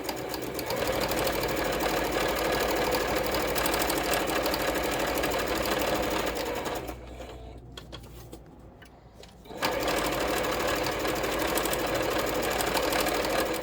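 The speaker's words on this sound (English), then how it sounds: "what we're going to do is just going to stitch all the way around." A sewing machine stitches a continuous seam around a small fabric tray, its fast mechanical whir running steady and close, broken by one short pause before it resumes.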